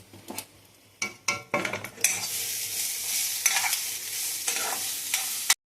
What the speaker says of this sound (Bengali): দেখুন, আমি পুরো চালটা দিয়ে দিলাম। দিয়ে এবার আমি এটা নাড়বো।